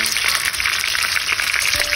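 Garlic and whole peppercorns frying with onions in a pan outdoors, a steady, loud, close sizzle with crackling pops running throughout, no voices.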